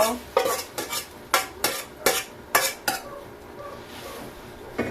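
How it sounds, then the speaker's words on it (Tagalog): A spoon scrapes and clinks against a pot while sautéed tomato, onion, garlic and mung beans are stirred, with irregular sharp metallic strokes over a soft sizzle, close and clear. "Igisa natin ang kamatis, sibuyas, bawang. Ilagay natin guys yung munggo."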